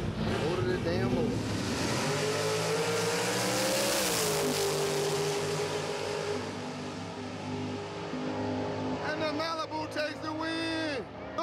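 Drag racing cars launch side by side at a grudge race, loud engines revving and roaring steadily down the strip, under an announcer who talks over the noise.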